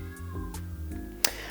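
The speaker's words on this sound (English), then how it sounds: "now the cat's meowing" A cat meows indoors with a short plaintive call over a low steady background hum, with a sharper louder burst near the end.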